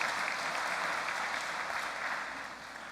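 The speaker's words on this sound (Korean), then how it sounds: "여러분 수고하신 분들에게 박수 좀 보내주시면 고맙겠습니다" A church congregation applauding the volunteers at a Sunday worship service, a dense, steady wash of clapping from a full hall that fades slightly toward the end.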